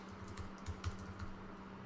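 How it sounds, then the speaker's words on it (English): Quiet typing on a computer keyboard at a desk, a loose string of soft irregular keystroke taps with a few slightly louder presses over a faint hum. "Let's type"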